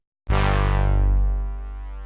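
A thick, buzzing synth drone starts abruptly and holds steady, its gritty distorted growl fading slightly toward the end.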